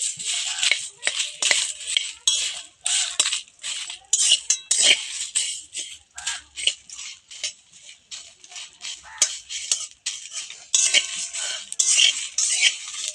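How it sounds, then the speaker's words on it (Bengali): Dry spices toasted without oil in a kadai, stirred with a metal spoon, giving close, irregular scraping and clinking scratches against the pan with no voices. "সমস্ত শুকনো কড়াতে ভেজে নিচ্ছি তেল ছাড়া।"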